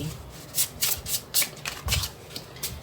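Tarot cards being shuffled by hand, a series of quick, crisp riffling bursts repeating in a steady rhythm, close and clear with no talking.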